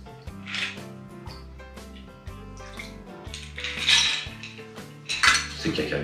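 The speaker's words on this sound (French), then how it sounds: "un petit shake pour faire une toute petite émulsion" Ice and liquid rattle and clink inside a three-piece cocktail shaker while a Long Island Iced Tea is being shaken, giving rapid, uneven metallic knocks in short bursts, close and clear, with no talking.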